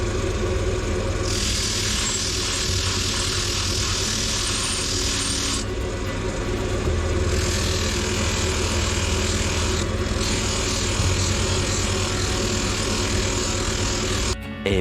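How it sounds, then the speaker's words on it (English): Cotton flap buffing wheel spinning at 2000 RPM on a turned wooden cup, a steady dense whir and rumble that holds throughout with a few shifts in pitch as the work presses against it. "And now I'm just going to use this buffing wheel. It's a cotton wheel."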